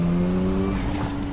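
A rebuilt Mazda RX7 on its first test drive, engine droning steadily with a held tonal note close by, brief and without talk.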